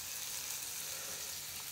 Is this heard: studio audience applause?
no